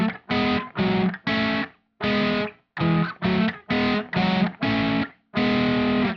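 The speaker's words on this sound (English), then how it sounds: "If I slowed it down and played both parts on guitar, it'd sound like this." Two distorted electric guitars play the harmony parts of a song at a slowed tempo, as a string of sustained, loud chords and notes separated by short gaps, with no talking.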